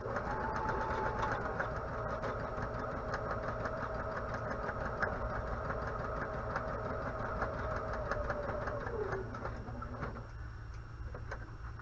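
A sewing machine back stitching a kitchen hanging towel runs in a steady, fast mechanical rattle with a faint whine, then slows and stops near the end, fairly quiet and without talk.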